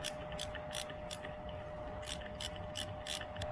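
Bolts on the brake pedal of a Can-Am Ryker are hand-tightened with a ratchet, making repeated short, crisp clicks in steady bursts close by. A constant mechanical hum runs underneath, and no one speaks.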